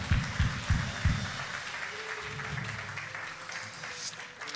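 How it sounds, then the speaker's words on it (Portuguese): A church congregation applauds, opening with several loud, close thumps and claps before settling into a lighter, even patter of many hands that carries on through the rest. "Aplaude o Senhor pela vida da mulher mais linda do mundo."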